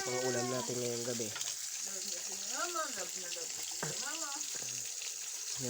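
Food frying in a pan for an evening meal gives a steady, bright sizzling hiss that runs continuously beneath loud, animated talking.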